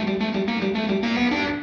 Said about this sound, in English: And this is the distortion sound I've set up.